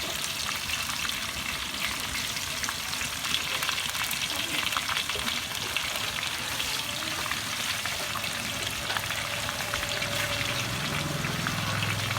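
Sliced banana chips frying in hot oil, a dense, steady bubbling sizzle that stays loud and continuous throughout with no talking.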